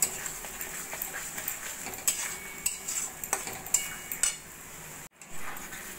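Chicken masala frying in a pan while being stirred, a soft steady sizzle under intermittent spatula scrapes and clinks, fairly quiet and close, with a brief dropout near the end.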